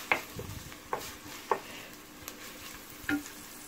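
Finely chopped onion sautéing in a pan, a soft continuous sizzle broken by several sharp scrapes and clinks of a utensil stirring at irregular intervals.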